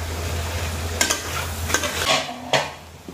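Fish roe, with eggplant and krachai, is stir-fried over high heat, and a spatula scrapes and clatters against the pan in quick bursts over a low, steady sizzle.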